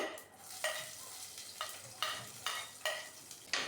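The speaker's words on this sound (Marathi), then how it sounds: "फोडणी छान तळतळली की त्यामध्ये आपण लसूण आणि मिरची आपण जी कापलेली आहे ती टाकायची आहे।" Cut garlic and green chilli stirred into hot tempering oil with curry leaves for a Marathi bhindi sabji, a faint sizzle broken by about seven sharp stirring scrapes at a fairly regular pace.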